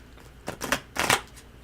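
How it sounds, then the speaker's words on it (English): Cards are shuffled in two quick riffling bursts, soft and close, with a brief pause between them. "I'll do one more, and then shuffle and cut Mr. O."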